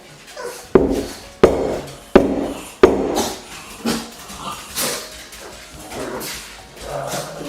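A metal bundt cake tin filled with lemon cake batter is banged sharply on a counter four times in quick succession, followed by softer knocks and scuffling while dogs react nearby.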